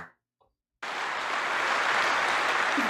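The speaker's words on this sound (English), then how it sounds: "Literally, they're clapping for hell." Sudden burst of dense audience applause at a stand-up comedy show, starting after near silence and holding steady and full for the rest of the moment.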